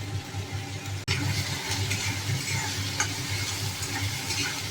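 Ground chili powder, turmeric and salt fry in a pan with a steady sizzle and occasional stirring scrapes, close and continuous, over a low rumbling background hum.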